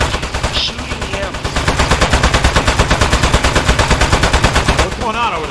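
Rapid automatic gunfire in the video game Aperture Desk Job rattles out as loud, evenly spaced bursts in a steady, driving rhythm, with a brief voice at the end.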